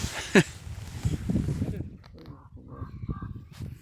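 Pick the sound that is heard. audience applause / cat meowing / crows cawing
crows cawing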